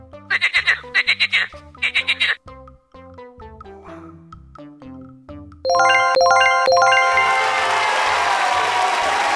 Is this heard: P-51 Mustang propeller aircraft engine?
no